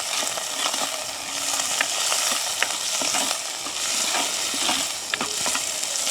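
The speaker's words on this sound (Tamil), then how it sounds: "இப்போ வந்து நல்ல வடிவாக பிரட்டி விடுவேன்" Shallots and green chillies frying and being stirred in a pan, a steady bright sizzle with scattered scraping clicks from the spoon, close and continuous.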